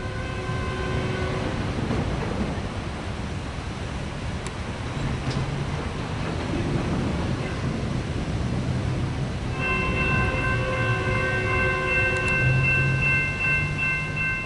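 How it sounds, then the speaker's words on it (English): A Metrolink train arriving at Oceanside rumbles steadily past, then its horn blares loudly with a sustained multi-tone blast over the continuous rail noise. "we see another Metrolink train arriving out of San Bernardino"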